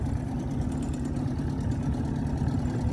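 A rebuilt-carburetor outboard motor on a jon boat runs steadily at idle, a continuous low rumbling drone that holds even and close throughout with no voices.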